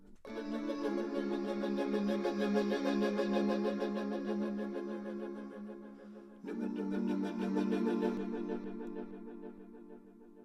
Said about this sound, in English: With the echo, it sounds like this.